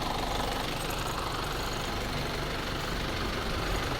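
Faulty air-conditioning compressor on an Isuzu Fuego, running loud and close with a steady harsh mechanical knocking and rattling drone that fills the clip without pause.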